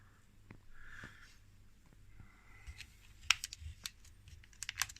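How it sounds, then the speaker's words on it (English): Small metal woodruff keys clink and rattle as a hand rummages through a box of them in a workshop, a quiet, sparse run of light ticks and scrapes growing busier toward the end. "I've got this box of woodruff keys."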